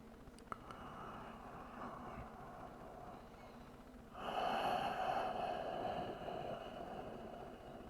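Slow, deep breathing during a yoga hip stretch, a soft steady airy wash that swells noticeably louder about halfway through and holds, with no talking.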